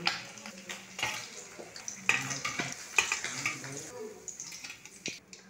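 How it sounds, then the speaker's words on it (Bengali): Pomfret fish, coated in spices, fry in oil in a pan, giving a soft crackling sizzle broken by clattering bursts as the pieces are turned and stirred, with faint background noise. "আবার পরে মাছগুলোকে আমি এইভাবে ভেজে নেব"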